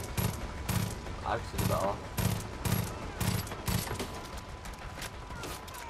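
Gunfire and explosions in the video game Far Cry 5: repeated loud bursts of shots in a rough rhythm, with a person speaking briefly between them.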